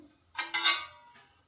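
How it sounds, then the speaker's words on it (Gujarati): A metal lid is set down on a pot of potato and brinjal curry, making a short close clink and rattle that quickly fades. "એને ઢાંકી દઈશું"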